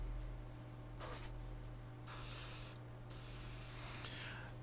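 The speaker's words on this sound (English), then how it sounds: "I always use a plastic card or an old business card to check the spray of the airbrush when I mix it" An airbrush sprays paint onto a plastic card while a model figure is being painted, with two steady hissing bursts of about a second each, close and fairly quiet, with a short hiss before them.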